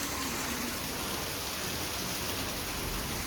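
Heavy rain pours outside a gallery, a dense, continuous hiss of downpour heard close and loud, steady throughout with no voices.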